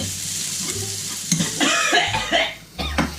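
Squid stir-frying with chili in a pan for a Thai holy-basil squid dish, a close sizzle broken by scraping stirs and clattering spatula strokes, with a brief throat-clearing sound mixed in.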